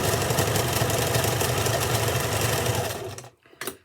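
A sewing machine stitches fabric for a scrunchie in a loud, close, steady mechanical whirr. It runs for about three seconds, stops, then gives one short final burst.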